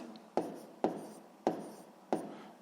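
Pen writing math calculations on paper, four distinct scratchy strokes at a slow, uneven rhythm, close and fairly quiet.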